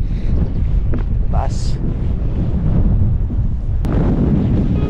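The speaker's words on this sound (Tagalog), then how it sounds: "Grabe, ang lakas ng hangin." Heavy wind on a mountain summit buffets the microphone in a constant low, roaring rush, with a brief voice speaking underneath.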